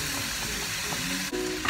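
Onion and black garlic frying in a sofrito, a steady close sizzle with a soft crackle and a brief dip near the end, no talking.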